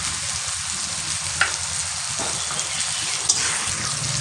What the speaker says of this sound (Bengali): এবার এর মধ্যে আমি বেটে রেখেছি টমেটো আদা রসুন, এই পেস্টটা আমি দিয়ে দিলাম।